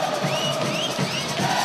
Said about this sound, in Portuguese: E a torcida do Vitória cantando alto.